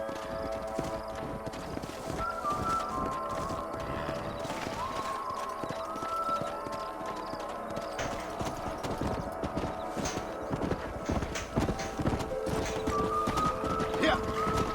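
Horse hooves clip-clop steadily through a video game scene, with several horses moving at once and a faint whinny, carrying on under game dialogue and background music.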